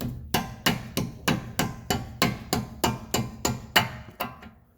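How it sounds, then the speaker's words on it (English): About a dozen evenly spaced mallet taps ring out as a lower ball joint is tapped into the spindle on a 2014 Kia Rondo, each a sharp close knock with a brief decay and nothing else heard. "if it is overly tight, you can use a mallet just to tap it into place"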